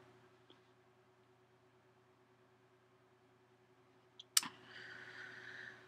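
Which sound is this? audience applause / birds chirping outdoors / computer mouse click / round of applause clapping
computer mouse click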